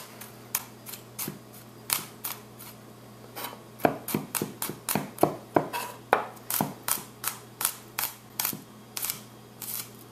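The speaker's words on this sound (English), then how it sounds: "Next is our garlic. We're just going to go ahead and slice it up." Knife slicing garlic on a cutting board for beef stroganoff, a quick run of crisp, close chopping taps, irregular at first, then faster and denser, with no talking.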